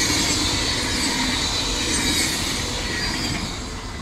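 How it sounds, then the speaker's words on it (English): A train rolls past on a nearby railway in the Netherlands, a loud, steady rumble and hiss of wheels on track with a faint squeal, fading slightly toward the end, with no talking. "I'm next to a railway now, and so not the most silent place."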